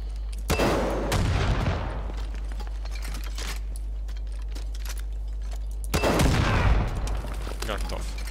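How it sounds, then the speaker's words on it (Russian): Loud bursts of gunfire in the Far Cry 5 game crack out near and sharp, a heavy volley at the start and another after a long pause, with rumbling decay between. "Случайно выстрелил."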